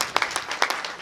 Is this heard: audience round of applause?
yes